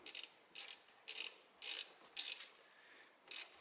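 A hand ratchet tightens a bolt on a Toyota Camry starter motor. Six short, crisp clicking bursts come close up and alone, with brief pauses between strokes.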